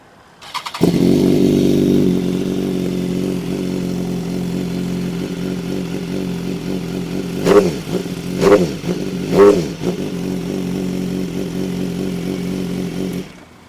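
A 2015 BMW S1000RR motorcycle engine fires up and settles into a close, steady idle, then gets three quick sharp revs in a row before cutting off abruptly.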